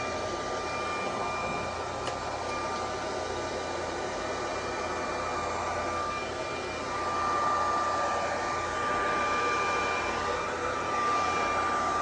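A hair dryer blows steadily across a poured acrylic canvas in pink and gold, a constant close, loud airy whoosh that swells slightly in the second half, with no talking.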